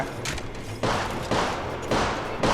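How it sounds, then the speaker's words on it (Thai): Repeated bursts of automatic gunfire in the mobile shooter Apex Legends Mobile, four loud clustered volleys in quick succession, close and sharp, with a rumbling tail between them. "ฉันถูกพบแล้วกำลังโดนยิง"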